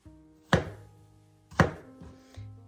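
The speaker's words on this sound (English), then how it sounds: "the next concept is we're going to cut up our chunks of watermelon." A knife cuts watermelon into chunks on a board for a fruit salad, with two sharp, close chopping thunks about a second apart and a softer knock after them.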